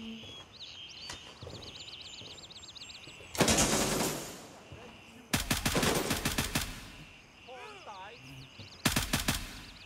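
Rifle fire in the video game Gray Zone, three loud rapid automatic bursts with short gaps between them, over faint game birdsong and ambience, with a voice speaking briefly between shots.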